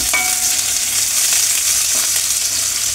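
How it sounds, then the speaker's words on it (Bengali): Chopped onions frying for a gravy in a ridged gourd dolma recipe, giving a steady, close hiss of sizzling oil that holds evenly throughout with a few faint stirring clicks and no speech. "গ্রেভিটার জন্য ফার্স্টে আমি দিয়ে দিলাম পেঁয়াজ কুচি।"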